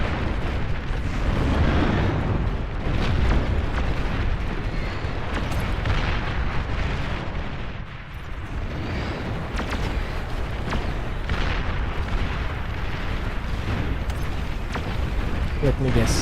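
Dense, continuous rumbling blasts of rocket explosions from units in the strategy game Beyond All Reason, overlapping booms sustained and loud throughout with a brief dip midway, under talk.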